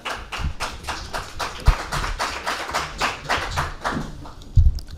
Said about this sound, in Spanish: esto de que te aplaudan antes de empezar mola